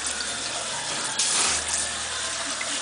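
Cold water runs steadily from a tap onto a toddler's hair during a wash, a continuous close hiss with a brief louder gush midway and no talking.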